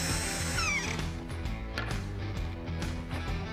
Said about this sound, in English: it's time to countersink and drill a screw in to hold everything in place